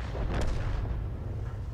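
A tank gun fires in a World War II tank battle video game, a heavy continuous low rumble with a brief muffled blast early on, steady and loud throughout without distinct separate shots.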